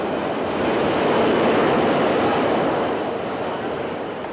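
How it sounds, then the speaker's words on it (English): Subway train rumbles past in a loud, close, continuous roar that swells and then slowly fades, with no voices. "Oh, do you feel the breeze from the subway?"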